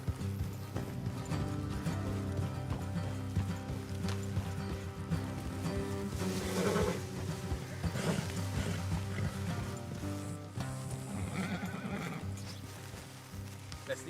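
Horses gallop in the video game Red Dead Redemption 2, continuous hoofbeats with whinnies rising through a dense layer of game music and ambience, heard steady from start to finish.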